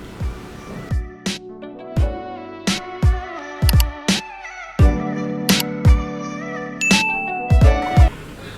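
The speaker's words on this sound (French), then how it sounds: "n'oublie pas d'activer la cloche de notification" Bright notification-bell dings ring out in a quick, irregular series of about fifteen close, loud strikes, each with a sharp attack and a short tonal decay. Some strikes overlap, with no voices present.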